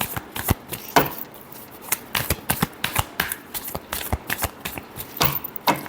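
Tarot cards being shuffled by hand, with close, papery riffles and flicks in repeated quick bursts separated by short gaps, and no voices.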